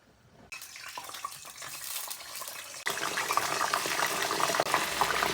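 Tostones frying in hot oil in a Dominican home kitchen: a dense, loud sizzle starts after half a second and swells sharply near the three-second mark, then crackles on steadily with no voices.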